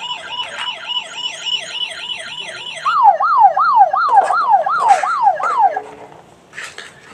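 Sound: toy ambulance siren

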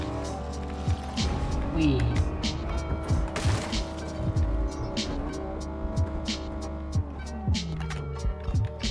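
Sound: car driving in a video game

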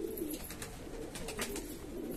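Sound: pigeons cooing

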